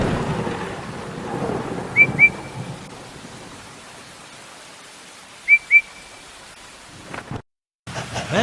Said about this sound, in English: The rain was very heavy now, and the river was rising fast.